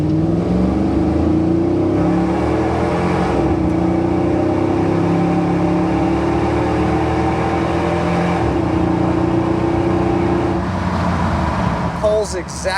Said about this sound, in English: you gotta love that Eaton Supercharger whine